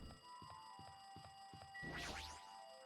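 In Danganronpa 2 a telephone rings with a series of evenly spaced electronic chirps, about six quick pulses, before a brighter swirling chime swells up near the end; faint and unaccompanied by talk.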